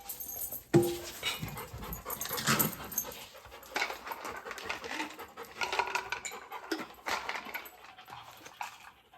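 On a farm, dogs pant and whimper close by before being fed, with soft scuffling and shuffling around them, fairly quiet overall.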